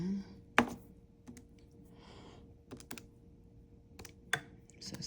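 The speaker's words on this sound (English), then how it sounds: "in your calculator, type in 64 and to the 2/3 power" Calculator keys are pressed in a sparse, irregular run of sharp, close clicks, with quiet gaps between the taps.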